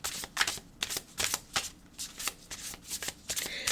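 A deck of oracle cards is shuffled up close, a quick run of crisp riffling flicks and slaps in an uneven rhythm, with no talking.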